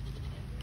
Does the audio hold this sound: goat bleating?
yes